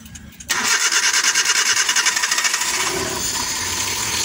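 A Suzuki K6A engine cranks with a rapid rhythmic starter chugging for about two seconds, then catches and settles into a steady close idle after a camshaft replacement.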